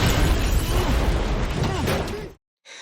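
A leaking can of chemical liquid bursts into a loud, sustained blast with a roaring rumble that lasts about two seconds, then cuts off abruptly into silence.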